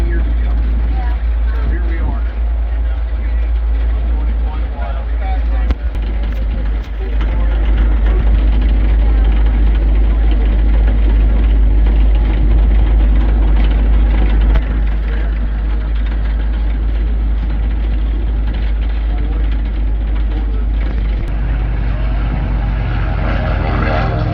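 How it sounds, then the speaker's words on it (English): A WW2 military half-track engine runs heavy and steady from on board during a convoy along airshow taxiways, a loud constant low rumble with people talking over it. "I'm riding in a half track right now."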